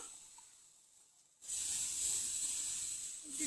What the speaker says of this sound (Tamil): இந்த டைமில் நம்ம வந்து ரெடி பண்ணி வச்சுருக்கிற பேட்டரை கொஞ்சமாக ஊற்றிக்கலாம்.